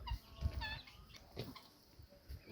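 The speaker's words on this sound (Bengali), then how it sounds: "ওই তো দেশি মুরগিরা" Native country chickens cluck and squawk in short, faint bursts at a distance, with quiet outdoor background noise.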